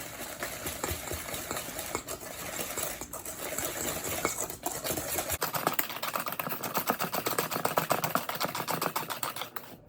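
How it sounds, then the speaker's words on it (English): Egg being whisked into a small batch of chocolate chip cookie mixture, a fast, steady rhythmic clatter of whisk against bowl that grows busier and more even in the second half, close and fairly loud. "Now I'm going to whisk it again."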